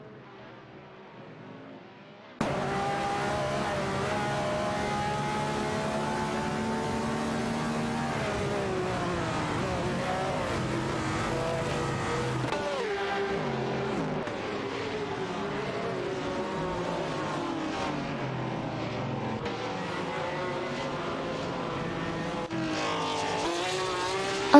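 Race cars from a racing video game, including a Nissan R382, roar along the track in a loud sustained engine drone with rising and falling revs as they battle for position, without talk.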